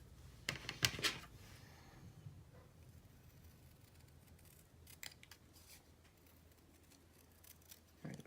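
Paper is cut by hand with scissors while making a crafted mini album. A quick cluster of crisp snips comes near the start, then a few isolated cuts follow over quiet background, close and fairly soft.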